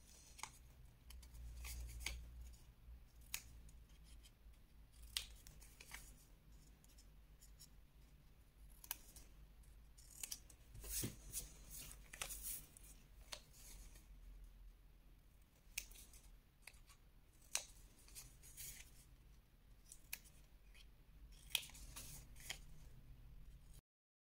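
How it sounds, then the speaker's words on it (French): Scissors snip through paper to cut an explosion box for scrapbooking, a long run of soft, close, irregular cuts with faint rustling between them and no talk. "Ensuite, vous pouvez couper légèrement en biais"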